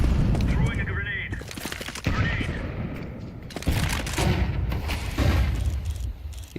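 A grenade blast and rapid gunfire in a video game: dense, loud bursts of shooting with heavy booms that fill the whole stretch, while a voice talks over the action.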